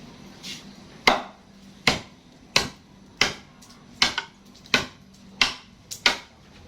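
Hard, dry wood struck by a sharp golok machete: about nine sharp, loud chops spaced roughly half a second to a second apart, each with a short decay, close by with no talking.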